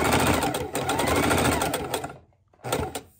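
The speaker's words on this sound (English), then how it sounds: "when you're sewing at home, you're probably comfortable sewing a little slower" Home sewing machine stitching a reversible coffee cozy: a loud, close, continuous mechanical whir that runs steadily, stops briefly, then starts again.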